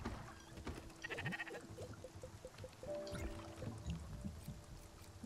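Sheep bleating in the video game Spiritfarer, several short bleats scattered over soft background music and ambient game sounds, moderately quiet.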